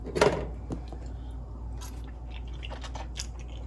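Someone takes a sample bite of shrimp fettuccine, a sharp close crunch opening into soft, sporadic chewing and mouth noises that fade under a steady low hum.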